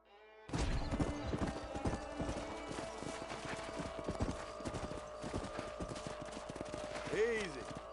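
Horse hooves clip-clop at a steady brisk pace in the Red Dead Redemption video game, loud and close, with scattered gunfire and a brief whinny near the end.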